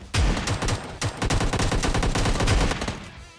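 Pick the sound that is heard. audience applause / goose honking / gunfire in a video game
gunfire in a video game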